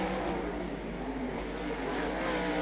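A 360 sprint race car at speed on a track during time trials at an Allstar Challenge, a continuous loud roar from a distance with no talk.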